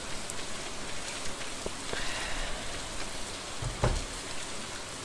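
Rain patters steadily in the farming video game Stardew Valley, a soft even hiss of drops with a couple of faint ticks and no voices over it.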